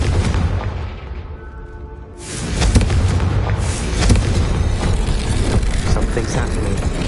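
A Confringo spell explosion in a Harry Potter video game bursts in with a loud, rumbling boom after a quieter lead-in, followed by sustained crackling blasts and echoing impacts.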